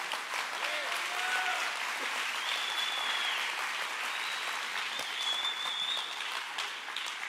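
A church congregation applauding during a bilingual Spanish-English worship service, broad sustained clapping that stays even and moderately loud, with faint tonal sounds drifting through in the background.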